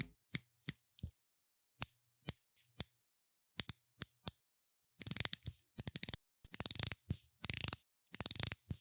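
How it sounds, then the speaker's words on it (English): Hamilton Khaki Navy Scuba dive-watch bezel being turned, first single sharp clicks spaced apart, then rapid rattling runs of clunky clicks, very close and alone. "The bezel action feels unrefined, a little bit clunky, and it does clickety clack"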